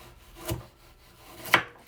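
A knife cuts through frozen beef liver in two short, quiet, scraping strokes about a second apart, each with a dry, grainy rasp.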